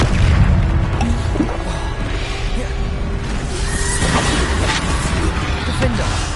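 A Bombarda blasting spell goes off in Hogwarts Legacy, a heavy boom that peaks at the start and then rumbles on amid crackling, busy game effects.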